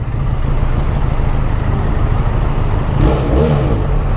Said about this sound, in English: Gotta love the sound of that engine.